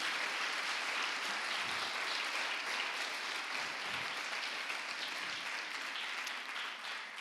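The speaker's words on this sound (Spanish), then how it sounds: "Dale un aplauso a Cristo." Church congregation applauding during a Spanish-language sermon, a dense, sustained wash of clapping that carries on unbroken for several seconds.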